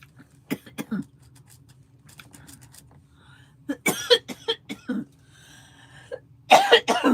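Scattered coughs and throat-clearing bursts, some in quick clusters, close by with quiet pauses between them.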